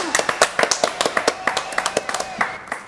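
A small television studio audience claps close by in loose, uneven bursts of distinct hand claps that thin out toward the end.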